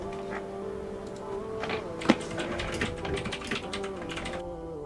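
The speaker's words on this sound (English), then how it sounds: "because I left the typing in" Typing on a computer keyboard clatters as a steady run of quick, close clicks through the whole clip over a low background hum, with no one speaking.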